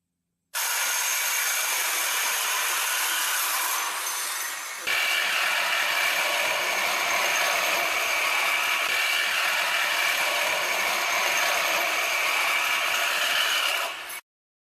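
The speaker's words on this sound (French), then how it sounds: "Observez bien en fin de test la sortie de coupe sur la machine filaire Hitachi" A corded Hitachi reciprocating saw cutting through material during a road rescue demonstration, a loud, steady buzzing roar that runs continuously for about thirteen seconds, with a brief shift in pitch partway through and an abrupt stop.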